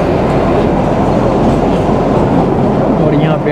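Kalka–Shimla narrow-gauge toy train in a Vistadome coach, a loud, steady rumble and rattle of the running carriage heard from inside, continuous throughout with a faint wheel squeal near the end.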